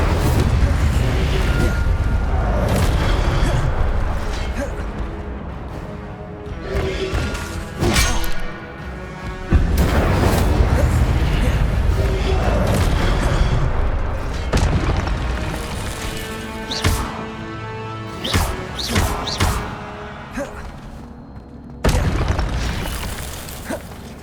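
Incendio fire spell casts in Hogwarts Legacy, a series of loud booming whooshes and crackling bursts repeating over a dense rumbling game soundscape, with no talk.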